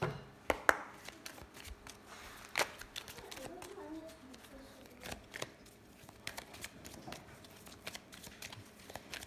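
Lenormand cards being shuffled and cut, with soft papery riffles and taps scattered throughout, close and fairly faint beneath someone talking.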